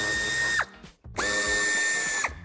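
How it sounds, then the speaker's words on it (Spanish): A power driver spins Torx 25 bumper screws out of a Volkswagen T-Roc, giving a loud, steady whir that stops briefly, then starts again and runs strongly to the end, close up with no talking. "quitaremos los tres tornillos que sujetan el paragolpes. También son tornillos de Torx de 25."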